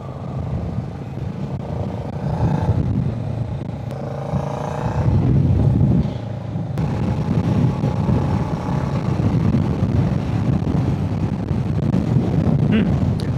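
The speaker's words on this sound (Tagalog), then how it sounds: "Lakas ng hangin" Strong wind buffets the microphone of a Kawasaki Z650RS rider on a loop around Dronten in the Netherlands, a loud continuous low rumble mixed with engine and road noise.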